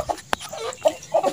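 Chickens and chicks cluck softly in short scattered bursts nearby, with a sharp tap in between.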